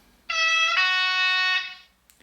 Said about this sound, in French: vous aurez un premier klaxon